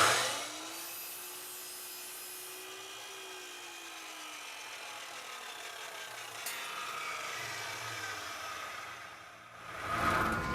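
A power saw cuts a window screen frame profile at a 45-degree angle, making a quiet, sustained whine with a gliding tone. A sharper burst comes near the end as the cut finishes, and no one speaks.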